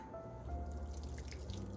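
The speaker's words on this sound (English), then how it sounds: "This is some hot water." Hot water pours steadily into a pot to dissolve a hotpot soup base at home, a continuous close splashing trickle with no talk.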